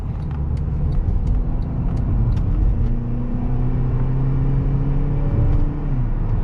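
A 2011 Honda Accord EX-L with a 2.5-liter four-cylinder, high-mileage, cruising on the road: a steady engine drone and road rumble that rises a little in pitch, heard from inside the cabin with no talking.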